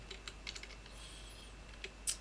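Sparse keystrokes on a computer keyboard, a handful of soft, separate clicks with uneven pauses between them, faint and close, ending with a slightly sharper tap.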